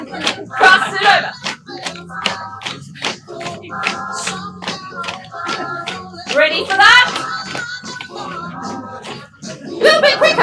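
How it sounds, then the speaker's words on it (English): Hands clap along in a dance class, sharp repeated slaps keeping time over upbeat music while an instructor calls out cues. "A little bit quicker. Tap and clap."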